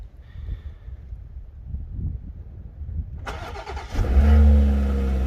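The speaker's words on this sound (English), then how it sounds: "let's remote start the car" A BMW M240i engine, remote started in snowy weather, cranks and starts after a few quiet seconds, catching with a loud rev before settling into a steady idle.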